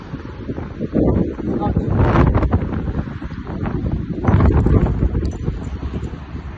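Strong gusts of wind buffet the microphone outdoors in Sopot, rising and falling in loud rumbling bursts.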